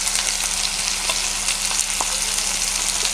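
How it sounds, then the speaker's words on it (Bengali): Ground spices, ginger paste, cumin, coriander, chili and turmeric, fry in hot oil for a cabbage and hilsa fish-head dish, producing a steady, close sizzle with faint stirring scrapes. "এগুলোকে আমি একটু ভালো করে তেলে কষিয়ে নেব।"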